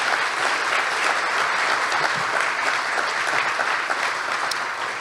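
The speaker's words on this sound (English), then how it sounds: "Let's have a round of applause for our board members." A large audience claps steadily and loudly for board members at a 2021 chamber annual meeting, a dense, even wash of applause that continues throughout without pause.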